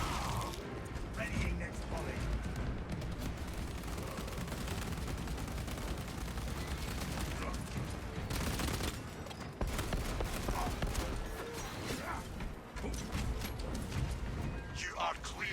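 Sustained gunfire from a sniper-class character in a solo session of a shooting video game, dense and continuous in the foreground with explosive bursts mixed in, and some talk under it.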